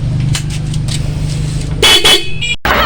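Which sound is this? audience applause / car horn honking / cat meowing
car horn honking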